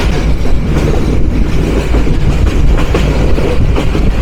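The Tista Express rumbles loudly and steadily over old iron sleepers, a continuous heavy roar with rhythmic rattling from inside the moving train.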